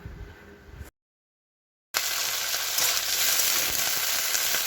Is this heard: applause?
no